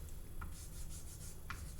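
Chalk or marker writes on a lecture-hall board, giving faint, brief scratchy strokes. Two short marks stand out against a quiet room hum, with no speech.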